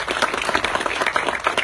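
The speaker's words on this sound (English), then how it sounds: "So big round of applause for that" A crowd applauds at a company announcement outside a donut factory, dense rapid clapping at moderate volume, steady throughout the short burst.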